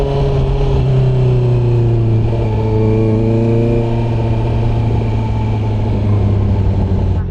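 A 2024 Honda CB650R motorcycle with a new full exhaust system revs loudly and steadily up close, its deep drone holding throughout with rising harmonic sweeps partway through.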